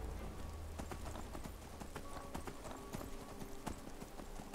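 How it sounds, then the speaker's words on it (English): Horse hooves clip-clop in a steady walking rhythm in the video game Skyrim, crisp and fairly close over a soft ambient bed, with no talking. "There we go, Sigur Spirit. The old English horse."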